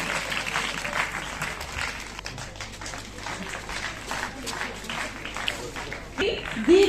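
Applause from an audience of children and adults at a school annual prize distribution ceremony in Kansar Bada Gaon, Sirmaur, Himachal, welcoming a guest; steady, moderately loud clapping throughout, with some voices mixed in.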